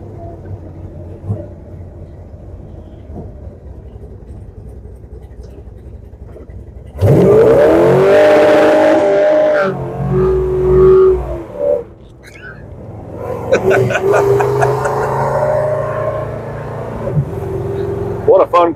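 A 1965 Plymouth Satellite with a 440 engine sits idling quietly, then erupts into a loud, close rev and acceleration roar, drops off briefly, and surges again, with people talking over parts of it.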